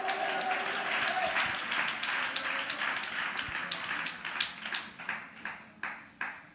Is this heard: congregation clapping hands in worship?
yes